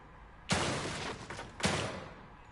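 Two loud, sharp gunshots from the survival horror game The Evil Within 2, the first near the start and the second about a second later, each with a long crackling tail, no talk.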